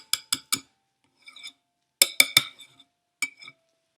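A spatula knocks and clinks against a bowl while folding apples into vegan applesauce muffin batter, sharp tapping in quick clusters of three separated by quiet pauses.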